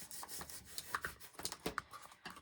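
Paper being smoothed and folded down by hand on a craft box, heard as a series of soft brushing rubs and light crinkles, close and fairly quiet with no talking.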